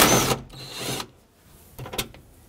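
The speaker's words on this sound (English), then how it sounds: "I'm also gonna take off this bolt that has this ground wire on it" A 10 mm socket ratchets off a ground-wire bolt inside the sliding door of a 2008-2020 Dodge Grand Caravan, with a burst of clicking up close followed by a quieter pause and two short ratchet bursts near the end.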